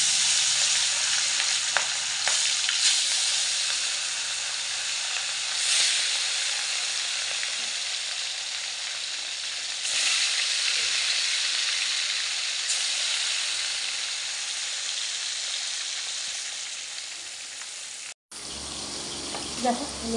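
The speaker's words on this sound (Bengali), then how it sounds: "মাছ ভাজতে বসেছি, মাছটা ভাজা হচ্ছে।" Fish rubbed with salt and turmeric fries in hot oil with a loud, continuous hissing sizzle that swells now and then. It cuts off abruptly near the end, followed by a brief quieter stretch.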